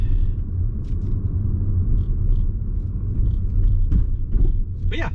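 A 2008 Audi S6 with its V10 cruises on the road, heard from inside as a steady low engine rumble and road hum, with a few faint interior clicks and knocks and no talk.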